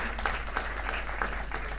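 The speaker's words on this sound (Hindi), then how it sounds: "पहले तो बहुत तालियां होनी चाहिए हैं।" Audience applause at a book launch for a history of Sindhi literature: a steady wash of clapping with scattered sharper claps, moderately distant and continuous.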